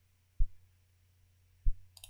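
Two crisp, isolated mouse clicks, about a second apart, sound during work in Fusion 360 CAD software, with a faint steady hum in a quiet room between them.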